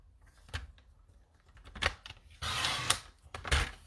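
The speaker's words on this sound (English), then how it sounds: "So I'm just going to trim a tiny bit off here." Cardstock for a window card being trimmed, heard as a series of sharp, close cutting and slicing clicks with a longer scraping stroke in the middle, fairly quiet with no talk.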